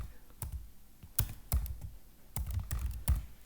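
Someone types a layer name in drawing software on a computer keyboard, giving scattered, close, soft key clicks with short pauses between bursts and no talking.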